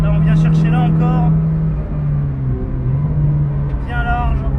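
Honda CR-Z engine droning loud and steady in the cabin on the Lédenon race track, its pitch rising and falling through the run, with someone talking over it at the start and end.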